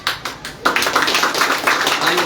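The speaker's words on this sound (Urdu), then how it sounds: "ہم آپس میں بات کریں، تالیاں مت بجاؤ، ٹائم ضائع ہوتا ہے." Audience at a Mustafa Kamal political speech to the Memon community claps steadily, a dense, sustained wash of applause filling the room with no talk over it.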